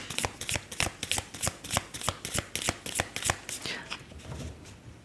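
Tarot cards being riffled and shuffled, a quick run of crisp, regular flicks that is close and fairly loud, then slowing and fading toward the end, with no voices over it.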